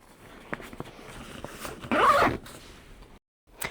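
Zip pocket running the full height of the front of an Eastpak Tranverz rolling holdall being zipped, one close, loud half-second zipping pull amid quiet handling rustle.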